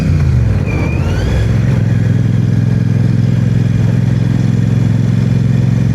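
Royal Enfield Guerrilla 450 motorcycle engine revving up and then holding a loud, steady mid-pitched drone with a constant low rumble, close by, and no voices.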